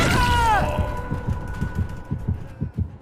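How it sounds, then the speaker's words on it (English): Killer terror radius heartbeat from the video game Dead by Daylight, a steady, loud, low thumping pulse, with a brief whooshing tonal sweep at the start. "There's the heartbeat."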